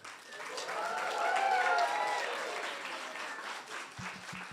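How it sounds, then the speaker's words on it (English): Audience applause at a business event in New York, a steady wash of clapping from a sizeable crowd that swells and then fades slightly, with faint voices and cheers mixed in. "let's just give a huge thank you and a big round of applause for Visa"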